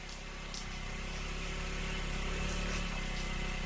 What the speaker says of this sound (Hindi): मेरे बेटे की गाड़ी की आवाज सुनाई दे रही है।